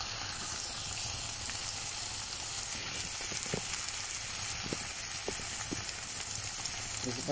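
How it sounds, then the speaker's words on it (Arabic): Onions and meat sauté together in a pan with a constant hissing sizzle, close and moderately quiet, broken by a few light stirring taps toward the middle and end. "بشوحهم البصل واللحمه اهو"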